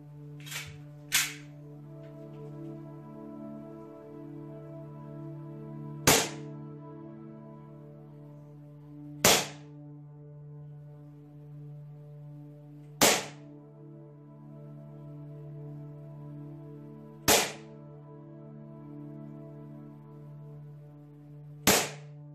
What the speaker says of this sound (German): Jetzt folgt der Schusstest. 10 Schuss